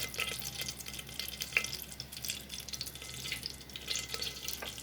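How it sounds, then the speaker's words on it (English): Cumin seeds sizzle and pop in hot oil as an Odia dalma tempering is prepared, giving a steady soft frying hiss broken by scattered small crackles and pops, with no talk. "Once the cumin start to pop, you can see them starting to pop."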